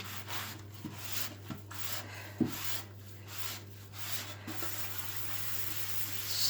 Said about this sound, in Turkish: Şöyle şuralarını da güzel parlatalım